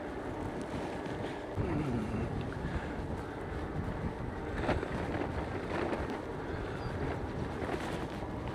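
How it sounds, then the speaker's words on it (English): Strong headwind buffets a cyclist riding the NC500 route toward Gareloch, a continuous loud rushing roar of wind over the microphone with gusts swelling and easing throughout. "wind's in my face unfortunately"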